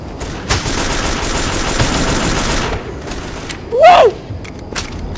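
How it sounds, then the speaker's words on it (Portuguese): Gunfire in the PS3 game Modern Combat: Domination: a loud sustained burst of rapid automatic fire, then a brief rising whoosh and a few isolated sharp shots. "Eu tô dando tiros da queima rosca!"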